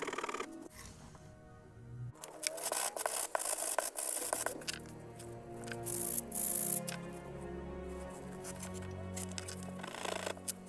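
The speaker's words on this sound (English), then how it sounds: "Now to help me out a bit, I'm using a rough sanding block and just going at it." A rough sanding block rubs and rasps against a cosplay holster, a steady gritty scraping that comes in strokes of varying intensity, close and fairly loud throughout with no speech over it.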